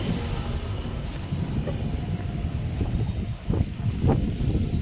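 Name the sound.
strong wind outdoors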